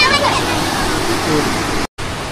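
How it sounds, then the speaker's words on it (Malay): River water flows and splashes continuously during a bath at Sungai Rambung, Lata Rambong, Selama, Perak, a loud close rushing wash like a small waterfall. "Sekarang kita mandi kat Sungai Rambung pula."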